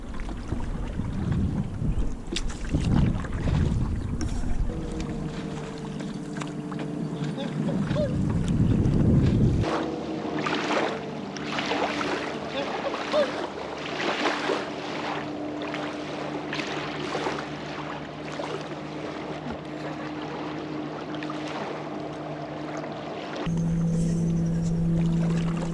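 Paddle strokes splash and knock against the hull of a 12-foot aluminum canoe carrying two people and a dog, amid water lapping and wind buffeting the microphone, with occasional faint voices.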